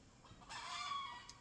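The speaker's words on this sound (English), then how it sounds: "we also have some chickens that I'm living with at the moment, so they may like to join in the video" Chickens at a small country property give a brief cluck and crow-like call that swells for about a second, heard alone with no voices nearby.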